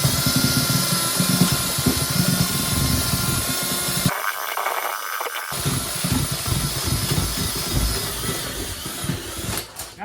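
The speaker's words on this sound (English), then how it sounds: "I'm going to take a standard cordless drill and attach a masonry mud mixing device to it" A standard cordless drill fitted with a masonry mud mixing attachment whirs steadily and loudly with a churning, uneven tone, briefly changing pitch midway before resuming.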